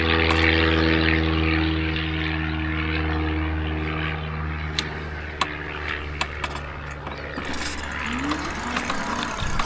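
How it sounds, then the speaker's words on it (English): A propeller airplane flies near an airport by a lake, its engine a steady, loud drone that stays constant throughout, with a few faint clicks near the end. "Speaking of airport, there's a plane right there."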